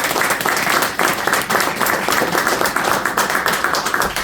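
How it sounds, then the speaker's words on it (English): An audience at Garfield Park Academy applauding after a talk by Mysonne, steady loud clapping with a quick, even patter that carries on through the whole short stretch. "Give her a applause for my..."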